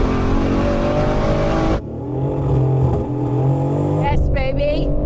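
A race car accelerates with boost, its loud engine note climbing in pitch before an abrupt shift to a lower, rougher growl, with voices mixed in.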